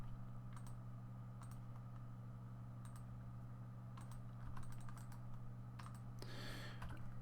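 Keys on a computer keyboard tap in short, scattered bursts, quiet and close over a low steady electrical hum, ending in a brief flurry of rapid strokes.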